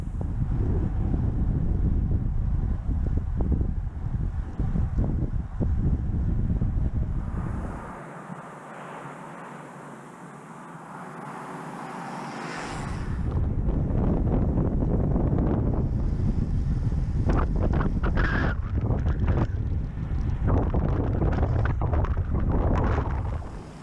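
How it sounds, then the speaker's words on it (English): Strong wind buffeting a microphone outdoors, a loud continuous low roar that eases briefly midway before gusting back up heavily, with no voice. "It's just really windy today, and I doubt you'd hear anything I said if I was on the bike."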